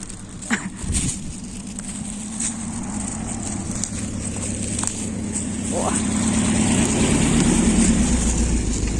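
A forester's car approaching along a forest track, its engine rumble growing louder toward the end while people talk nearby.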